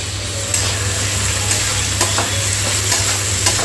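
Onion paste is stirred and fried in a pan, a steady close sizzle broken by regular scraping strokes of a spatula, with no talking.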